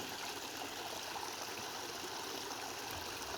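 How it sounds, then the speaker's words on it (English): Pond water spilling over a weed-choked spillway after heavy rains, a steady close rushing and trickling wash that runs without a break and with no voices. "that's all water overflowing there, and the only thing holding it are the weeds basically"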